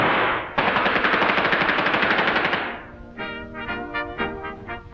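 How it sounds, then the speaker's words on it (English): Automatic weapons firing in a 1940s black-and-white wartime cartoon, a loud sustained rattle of rapid shots followed by shorter, more tonal staccato bursts with an old soundtrack character. "And with your automatic weapons, you have greater firepower than a whole platoon of Napoleon's finest"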